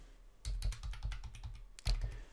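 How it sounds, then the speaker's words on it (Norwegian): An admin password being typed on a computer keyboard: two quick bursts of close, crisp keystrokes in a fast, uneven rhythm, with no talking. "så skriver vi her passordet for admin."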